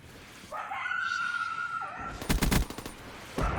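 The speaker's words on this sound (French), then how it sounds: "C'est les chiens de Cold War." Zombie dogs from Call of Duty Cold War zombies let out a drawn-out whining howl, then rapid bursts of automatic gunfire crackle in close, loud volleys with snarling mixed in.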